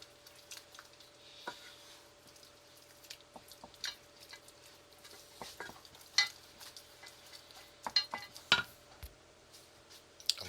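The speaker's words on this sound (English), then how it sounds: "we add just a little bit of milk and stir that in" Milk being stirred into a thick paste for a lasagne sauce in a pan, soft scraping and wet squishing strokes with occasional clinks of the utensil, fairly quiet and irregular, no talking.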